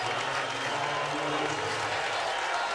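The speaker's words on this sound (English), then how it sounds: "And now Durant hears it from the crowd as he takes a seat." A large arena crowd at an Olympic basketball final, USA against Serbia, roars and applauds continuously as a player heads to the bench, with a commentator speaking over the noise.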